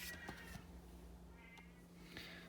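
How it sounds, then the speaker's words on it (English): A house cat howls and meows from somewhere behind a patio door, producing a few faint, drawn-out wailing calls spread across a quiet room with no talking. "I had to close my patio door so that my cat wasn't howling at us"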